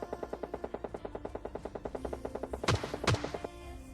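Rapid automatic gunfire rattles in a steady, evenly spaced burst during a nearby fight in PUBG Lite, broken by two heavier booming shots near the end before the firing trails off.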